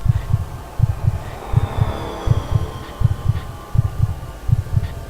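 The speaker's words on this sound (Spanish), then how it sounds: "Pero el latido crecía cada vez más fuerte" A steady heartbeat thumps in low, deep double beats, lub-dub pairs repeating evenly about every three-quarters of a second, with a faint hum behind.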